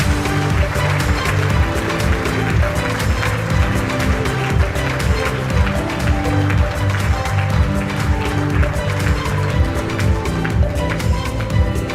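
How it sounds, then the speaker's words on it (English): A large awards-night audience gives loud, sustained applause for a keynote speaker taking the stage, a dense wash of clapping over a steady backing of stage music. "Please give a massive round of applause."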